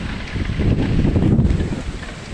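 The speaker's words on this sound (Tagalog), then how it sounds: "Ay, mahangin." Blustery wind on a farm buffets the microphone with a low, rumbling roar that holds steady throughout the short stretch.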